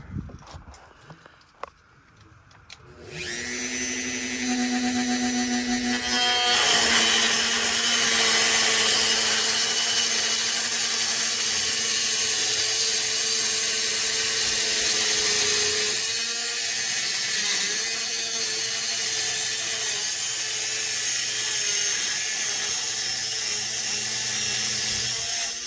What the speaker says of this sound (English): I'm gonna go ahead and take the Dremel and go ahead and cut the tops and bottom.